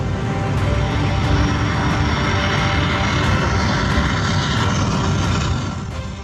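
A large passenger jet carrying the Indian prime minister lands at an American airport in heavy rain, its engines giving a loud, steady broadband roar that holds throughout and eases slightly at the very end.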